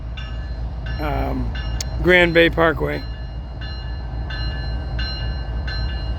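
A Florida East Coast Railway train rumbles past a road crossing, a steady mechanical roar running throughout while someone talks briefly near the start.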